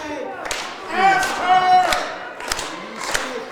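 Wrestling crowd at a Reality of Wrestling women's match rising in surging cheers and shouts for Promise Braxton, with a few sharp thuds and claps punctuating the loud, swelling noise.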